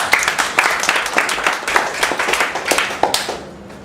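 Audience clapping for Tan Kwan Hong at a Toastmasters speech event, individual claps audible and fairly close, rhythmic and lively, fading out at the end.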